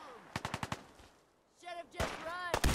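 Video game gunfire in Fallout 4, with a quick burst of four or five sharp shots, a pause, then more rapid shots and a ringing weapon sound, moderately loud with a voice briefly heard.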